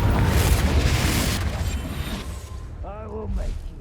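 A Confringo fire spell explodes in the video game Hogwarts Legacy, a loud booming burst over the first second and a half that decays into rumble, with a voice speaking near the end.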